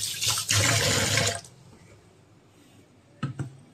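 Water running and splashing into a pot of rice being soaked in a home kitchen, a steady pour for about a second and a half, then quiet with two brief splashes near the end.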